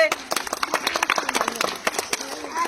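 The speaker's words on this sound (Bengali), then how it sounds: "দর্শক একটা হাততালি" An audience claps during a children's spinning game, a burst of uneven handclaps at close range mixed with talk and chatter.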